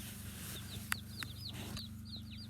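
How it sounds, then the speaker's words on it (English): Chickens clucking in a farm setting where ducks are also kept: short soft clucks and chirps repeat over a steady low hum, with no talk. "So we got some chickens and ducks."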